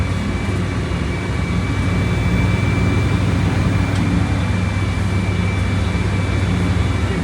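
A Volkswagen Volksbus 17.230 Euro 6 city bus engine in Rio de Janeiro, a loud, steady low droning rumble with a constant hum, close and unbroken throughout.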